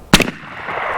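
AEA Zeus 12 air-powered shotgun firing a single sharp, loud blast during outdoor pattern testing at the range, followed by a faint lingering tail of ambient noise.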